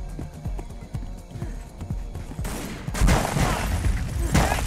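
Gunfire in the Tomb Raider Legend video game, a burst of loud rapid shots in the second half following softer rhythmic thumping footsteps.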